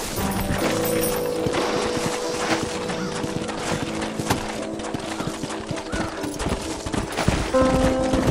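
Horses in the Red Dead Redemption video game, with steady clip-clopping hooves and a whinny, set against game music and ambience and no voices.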